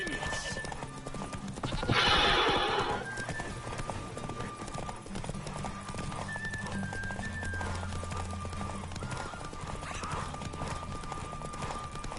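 Roach, the horse in The Witcher 3, gallops with rapid continuous hoofbeats and lets out a loud whinny early on, with game music running underneath.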